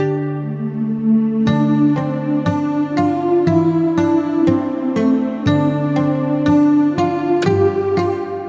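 Subtle percussive guitar rhythm in a Witcher 3 style folk arrangement: regular sharp plucked hits pulse about twice a second over a sustained humming choir, full and steady with no speech.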